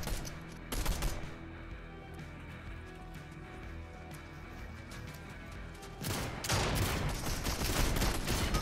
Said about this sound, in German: Jetzt wird von hinten wieder auf mich geschossen